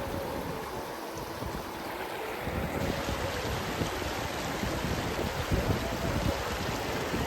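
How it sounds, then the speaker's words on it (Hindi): The Khular river flows over stony ground with a steady, broadband rushing. It holds at an even level from start to finish, with no voices. "ये खुलार नदी है।"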